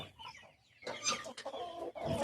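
Chickens on a poultry farm clucking and squawking up close, a few loud bursts in quick succession after a brief quieter start, with no talk.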